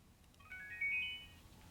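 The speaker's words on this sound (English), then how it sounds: "I can ring the earphones" Joyroom OE3 clip-on Bluetooth earbuds emit their find-my-earbuds alert, a faint rising series of thin electronic tones lasting about a second over soft room noise.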